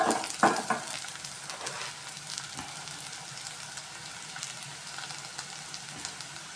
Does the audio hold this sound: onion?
yes